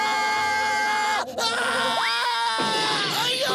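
A person shouts very loudly in a strained, drawn-out voice, with high harmonics sliding up and down, cut by a brief break and then continuing.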